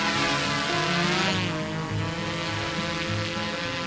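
A DJI Mavic 3 drone takes off and hovers over the desert, its propellers giving a loud, continuous buzzing hum with layered tones that wavers slightly as it climbs and holds position close by.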